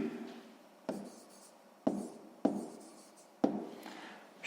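Pen strokes scratch across paper in a quiet room during a sixth-grade maths exercise, with four or five sharp taps where the pen lands, each trailing into a soft scratch.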